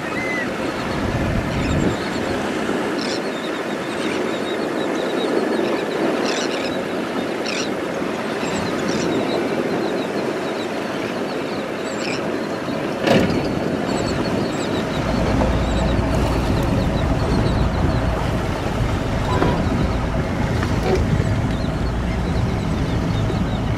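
A motorboat engine runs at throttle off the Gulf coast beach near Gasparilla, a steady loud drone with rushing wind and water spray throughout, surging a little louder in the second half.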